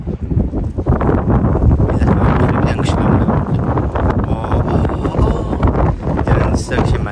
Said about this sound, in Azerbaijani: amma külək də var